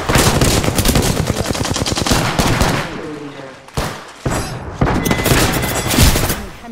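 Rapid automatic gunfire from the video game Apex Legends rattles loudly in dense bursts, pausing briefly before a few more sharp volleys and single shots, with faint game voice callouts mixed in.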